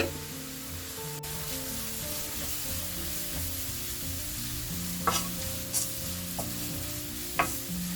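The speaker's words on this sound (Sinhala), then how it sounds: "මේ විදිහට එකතු කරගෙන අපි මේක ටිකක් හොඳට කලවම් කරගන්න." Vegetable noodles with spices and black pepper are stirred and tossed in a hot pan, with a continuous close sizzle under scraping stir strokes and a few sharper scrapes toward the end.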